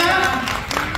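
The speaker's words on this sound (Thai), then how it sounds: "ขอเสียงปรบมือให้คุณเจบีค่ะ" Applause from an audience greeting JB of Got7, a dense burst of many hands clapping at close range that fills the whole moment.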